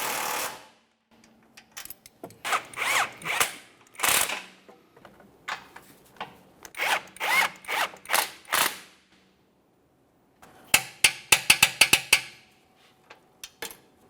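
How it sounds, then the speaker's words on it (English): Ratchet wrench tightening control arm mounting hardware on a GMC Acadia subframe, heard as close bursts of rapid metallic clicking in uneven runs, with a quick cluster of sharp clicks near the end. "Let's start tightening all the mounting hardware."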